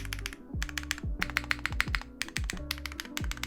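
Steady clacky typing on a KBD8X MKIII mechanical keyboard with no foam inside, keys striking in quick uneven clusters with short pauses between bursts, close and crisp.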